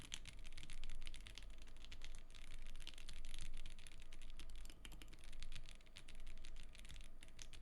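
Computer keyboard keys clatter in fast, continuous bursts of clicky typing, close and moderately quiet, with occasional heavier thuds standing out from the rest.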